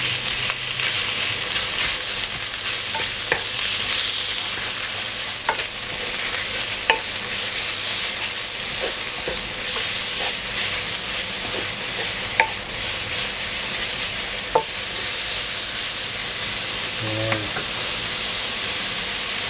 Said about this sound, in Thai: เสร็จแล้วก็หมูสับหมูบดนั่นแหละฮะลงไปผัดเลย